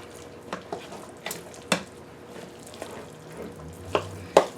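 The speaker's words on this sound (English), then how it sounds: "just mix this in so we have a nice creamy mixture" Soft, wet stirring of a creamy pasta filling with garlic in a bowl, quiet squelching broken by a few sharp clinks of utensil against the dish.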